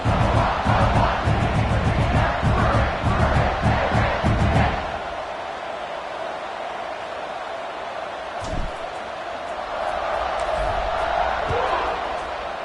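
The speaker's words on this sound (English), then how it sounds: "this crowd is buzzing after that last score" A stadium crowd at a football game roars after a score, loud and dense at first, then drops to a lower, steadier buzz with a commentator talking over it.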